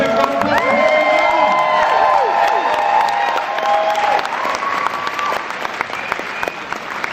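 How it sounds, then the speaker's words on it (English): A festival audience at a horror film event breaks into loud applause with cheers and whoops, a full crowd roar that fades slightly toward the end while a few voices shout over it. "Please give a big round of applause."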